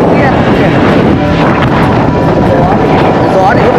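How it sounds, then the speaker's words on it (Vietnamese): Wind blowing across an open kite-flying field, a loud, constant roar buffeting the microphone, with someone talking underneath it. "Gió thì có thể gọi là siêu nét"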